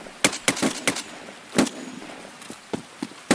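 Gunfire in the video game Escape from Tarkov: about ten sharp, loud shots in uneven bursts and singles, with no talking.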